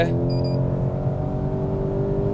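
A running Škoda engine, described with the first-generation Octavia, hums at a steady, even pitch close by, with no voices over it.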